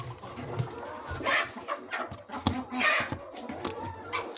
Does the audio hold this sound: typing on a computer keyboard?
no